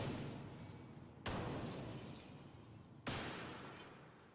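Car explosions played over speakers, two sharp blasts a couple of seconds apart, each a sudden crack followed by a long, slowly fading crumbling roar.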